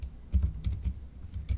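A few quick, quiet keystrokes tapped on a Bluetooth keyboard, soft clicks close to the microphone in a silent room.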